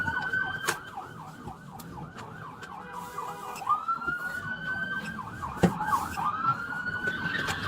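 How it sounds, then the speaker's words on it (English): A wailing police siren sweeps rapidly up and down in repeated yelps, close and loud, over road noise and a passing vehicle. "Officers activated their lights and sirens"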